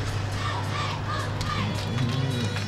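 High young voices of a cheer and dance group shout and cheer steadily at a Christmas parade in Concord, a dense, continuous crowd wash from nearby.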